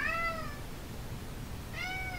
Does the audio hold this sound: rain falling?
no